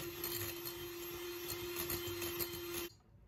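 An electric mixer whips cake batter with sugar and a pinch of salt for an apple pie, a steady whirring motor hum that runs close and constant, then cuts off abruptly near the end.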